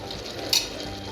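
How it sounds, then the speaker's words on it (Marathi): Mutton with turmeric fries in a pan with a close, even sizzle and one quick scrape midway. "याला तर याला पुन्हा फ्राय करून घ्या"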